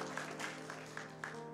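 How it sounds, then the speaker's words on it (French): A church congregation applauds during a service, a faint, steady wash of many hands clapping with a few slightly louder bursts rising out of it. "Applaudissez parce qu'au moins la personne est reconnue."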